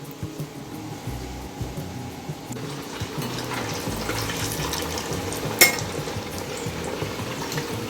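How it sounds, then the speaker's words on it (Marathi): Sabudana vadas, sago and potato patties, frying in hot oil, giving a steady close bubbling sizzle that continues throughout with a brief sharp clink partway through. "आता असे वडे बनवून घ्यायचे आणि तळून घेऊ।"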